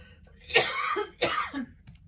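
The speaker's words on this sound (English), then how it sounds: "Excuse my coughing." Two harsh, close coughs in quick succession, followed by a softer short one, with no talking, from a person recovering from COVID.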